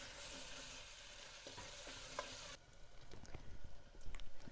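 Ginger garlic paste sizzles with onions in a hot pan, a steady frying hiss that drops off partway through, followed by rhythmic scraping stirs of a spoon against the pan, close and quiet.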